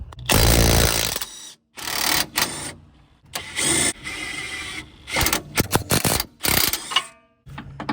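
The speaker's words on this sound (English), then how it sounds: "Now we're going to loosen the strut bolt to the lower control arm." An impact wrench or ratchet loosens the strut bolt at the lower control arm of a Tesla Model 3, firing loud, close mechanical rattling bursts separated by short silences, with no talking.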